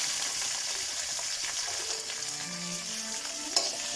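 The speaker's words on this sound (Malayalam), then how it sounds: "നന്നായി ഇളക്കി കൊടുക്കാം." Lemon pickle mixture frying and being stirred in a pan, a continuous soft sizzle with scraping stir strokes and a brief clink near the end, close and fairly quiet.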